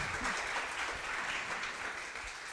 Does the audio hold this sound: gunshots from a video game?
no